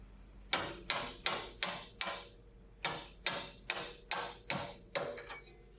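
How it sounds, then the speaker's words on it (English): Ten sharp metallic taps from a metal-headed hammer on a car transmission, a 1998 Acura Integra GS-R's, evenly spaced with a brief pause midway, each ringing slightly, close and clear with no talking. "you're going to need a heavy duty hammer with a metal head"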